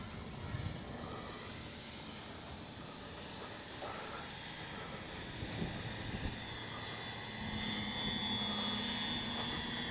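A radio-controlled FlightLine B-25 model airplane's engines whine steadily overhead against windy outdoor noise, the drone swelling a little louder toward the end.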